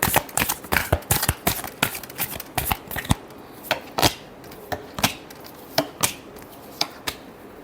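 Tarot cards are shuffled by hand in quick irregular flurries of crisp slaps and riffles, close and clear, with short pauses between bursts.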